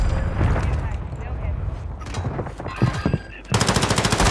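Enemy gunfire in Call of Duty Warzone on Rebirth Island, rapid automatic shots rattling in close bursts with a dense rhythmic volley at the end, under a player talking.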